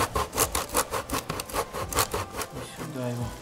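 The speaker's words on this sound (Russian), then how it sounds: "Теперь берем пармезан. Нужно натереть его на мелкой терке." Parmesan grated on a fine grater, close rhythmic rasping strokes at a quick steady pace, slowing near the end as a voice begins speaking underneath.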